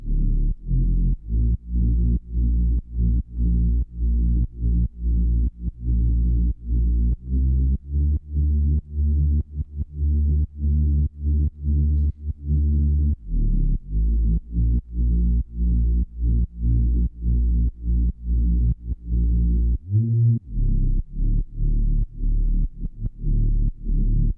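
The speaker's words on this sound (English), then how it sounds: "I have this Reese bass, which inside chain sounds like this." Deep, buzzing bass synth with a thick detuned tone, playing rhythmic chopped notes with short gaps, loud and alone.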